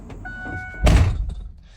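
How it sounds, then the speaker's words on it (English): A single solid thunk of a factory race truck's door shutting, close by, with a short rattle afterward. "Let me shut this door here."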